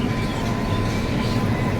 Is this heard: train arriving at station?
yes